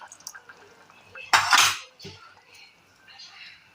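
A spoon stirs a bubbling chicken stew in a pot as cornflour is added, with light clinks and scrapes against the metal and one louder burst of stirring in the middle, close and fairly quiet with no voices.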